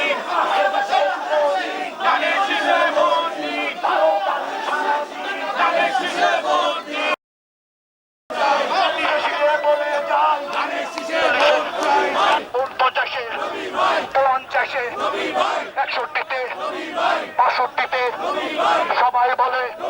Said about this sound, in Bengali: মিছিল চলাকালীন আলহাজ নবিউল্লাহ নবীর পক্ষে ধানের শীষ প্রতীকে ভোট চেয়ে বিভিন্ন স্লোগান দেওয়া হয়।